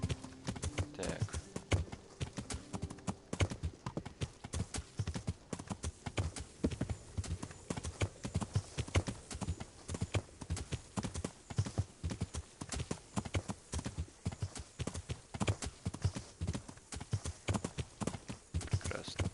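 Horse hooves clip-clop at a steady trot throughout a Kingdom Come medieval video game scene, close and rhythmic over a faint outdoor backdrop, with no talk.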